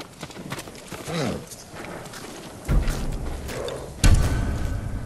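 Hoof clops from samurai horses in Ghost of Tsushima, some quick and some heavier thuds, with a couple of louder impacts, set against background noise and a low rumble.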